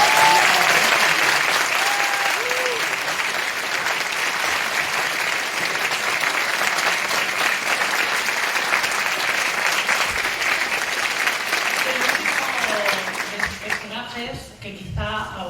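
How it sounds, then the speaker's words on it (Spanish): Sustained applause from an audience at a book event with a novelist's interview, dense and steady for most of the clip before thinning out toward the end. "os pido que empecemos con un fuerte aplauso"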